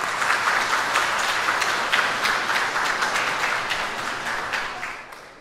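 Wedding guests in a hall in Yesan, South Korea, give a long round of applause for the officiant, steady dense clapping from a crowd that holds for several seconds before starting to fade near the end.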